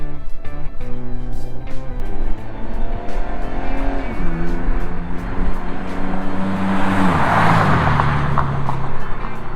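High school sport truck making a drive-by at a dyno day event, its engine loud and revving with rising pitch, a brief tire squeal and a sweeping pass across the scene, sustained throughout.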